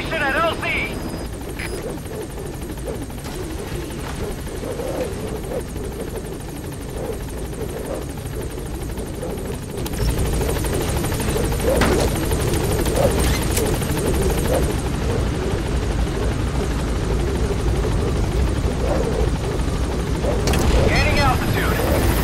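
Pequod helicopter in the video game Metal Gear Solid V: The Phantom Pain, a steady loud rotor thump and engine drone that grows louder partway through, with voices talking over it.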